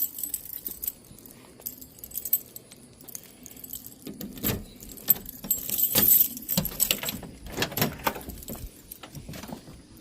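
Keys jingle and rattle close by while someone gets into a Dodge Dart to start it, in uneven bursts with a louder, busier stretch in the middle and no clear speech.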